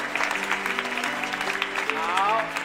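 Applause rises from the audience at a wedding ceremony, a steady patter of clapping mixed with soft music and a voice, lasting a few seconds.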